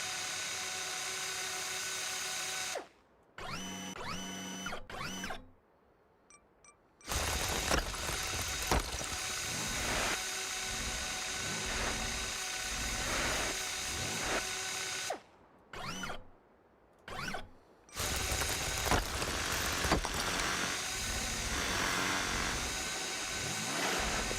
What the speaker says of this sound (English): I want to turn the drill head on and then switch to the different servos and move the drill head around whilst it stays on